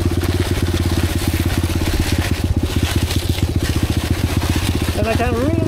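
Enduro motorcycle engine running steadily in first gear, a loud close rapid pulsing thrum that holds even throughout, with a brief voice near the end.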